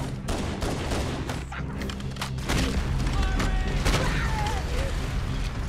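Dense gunfire and booming explosions from a Halo: Combat Evolved firefight rattle continuously for several seconds, loud and chaotic, with faint alien chatter squeaking through near the end.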